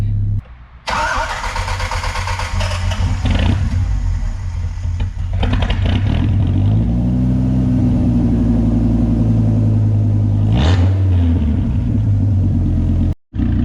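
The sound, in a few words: Dodge Viper RT/10 V10 engine running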